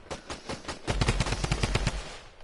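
A drum gun fires in Fortnite: a few scattered shots, then a rapid, steady burst of heavy automatic fire, loud and close, with no talking.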